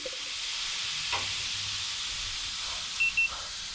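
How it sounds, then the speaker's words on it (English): Water poured onto a hot stove inside a Morzh sauna tent, giving a steady broad steam hiss that sizzles throughout, with a brief burst near the middle and a few short sharp tones near the end. "That raised the steam in the room."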